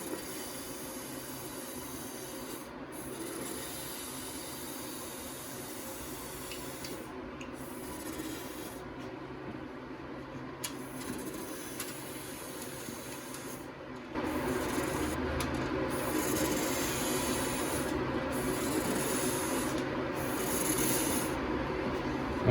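A spray paint can sprays through an extension tube into the rear frame rail of a 1994 Jeep YJ, giving a steady rough hiss that grows louder and fuller partway through, with brief gaps as the nozzle is worked.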